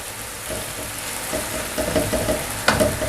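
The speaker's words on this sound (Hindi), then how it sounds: "ये प्याज हमारी हल्की हल्की ब्राउन हो रही है, ज़्यादा ब्राउन नहीं करनी" Onions frying in a pan for dum keema matar, turning lightly brown, with a steady close sizzle and irregular stirring scrapes of a utensil, plus one sharp clink near the end.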